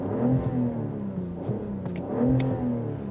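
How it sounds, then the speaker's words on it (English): 2024 BMW X6 xDrive40i inline-six engine revving, two smooth rises and falls in pitch, moderately loud with a few light clicks, no voices. "One of my favorite sounding engines."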